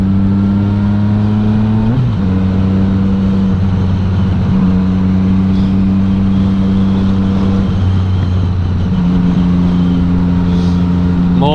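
A car cruising along a road course through a 50 speed limit zone during TT 2022, its steady engine drone holding loud and close throughout with two brief shifts in pitch and no talk over it.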